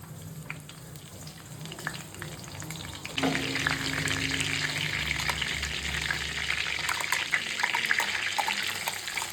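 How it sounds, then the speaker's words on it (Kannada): Hot oil sizzles softly, then bursts into a loud, steady crackling hiss as cumin and pepper drop in for tempering, and it keeps frying up close. "ಈಗ ಒಗ್ಗರಣೆಗೆ ಜೀರಿಗೆ ಮೆಣಸು ಹಾಕೊಂಡಿದ್ದೀನಿ."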